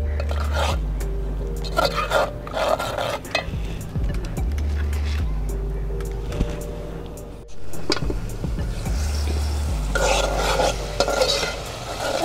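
Onion-garlic spice paste stir-fried in a pan for a rui fish and sweet pumpkin curry, with a steady close sizzle broken by repeated scraping strokes of a spatula and occasional light clinks, no voices.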